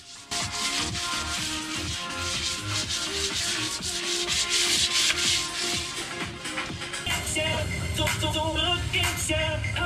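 Sandpaper is rubbed by hand over a POR-15 rust coating on a boat keel, making continuous close scratchy strokes in an uneven rhythm, with a little background noise.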